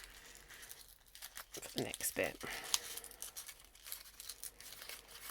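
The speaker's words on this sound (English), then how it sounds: "I'm going to just keep crumpling it up and pulling it apart and crumpling it up because I want it to be really pliable" Paper is crumpled and pulled apart by hand to make momigami, giving repeated crinkling and rustling bursts up close while someone talks quietly over them.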